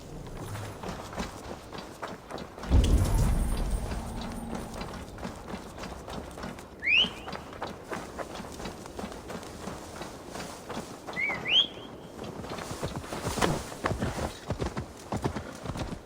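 Rhythmic clip-clop of horse hooves in Assassin's Creed Valhalla, steady plodding steps with a louder thump early on and a couple of brief whinny-like sounds, moderately close.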